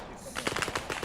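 Short burst of rapid automatic gunfire from a BTR armored vehicle in the military shooter Arma 3, a rattling string of close shots following a quiet moment.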